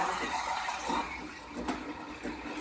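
Water runs from a Delonghi Magnifica super-automatic coffee machine, a soft continuous trickle with faint splashy patter, close but quiet, with no voices over it.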